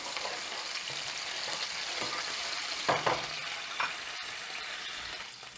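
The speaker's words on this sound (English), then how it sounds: "you want to just fry these up and allow these to break down" Chopped anchovy fillets frying in a pan for spaghetti alla puttanesca, a steady close sizzle and crackle with a few louder spits and stirring scrapes, no talking.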